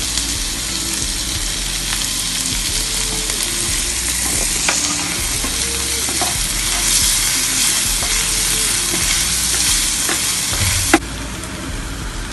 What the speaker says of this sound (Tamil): கொஞ்சம் இஞ்சி பூண்டு விழுது, நல்லா ஃப்ரை பண்ண பிறகு வெங்காயம் போட்டுக்கிறோம்